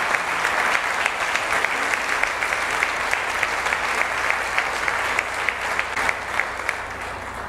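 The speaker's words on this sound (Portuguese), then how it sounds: "Você pode aplaudir o Senhor, você que é pai." A church congregation applauds steadily and loudly with no breaks, a dense wash of clapping with no talk over it.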